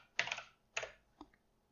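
Faint, close clicks from a computer keyboard, two quick bursts of keystrokes followed by a single lighter tap.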